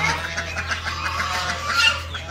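Hens on a farm cluck continuously near their coop door, a busy overlapping chorus of short clucks at close range over a low background hum.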